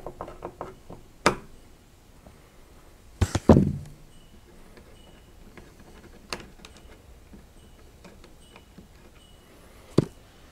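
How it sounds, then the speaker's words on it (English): A screwdriver is forced into a homemade rail gun armature, giving sparse metallic scrapes and ratcheting clicks, with a louder cluster of scraping around the middle and a sharp knock near the end, close and alone. "It's tough getting a screwdriver in here."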